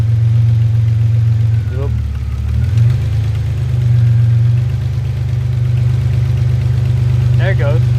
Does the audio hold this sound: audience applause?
no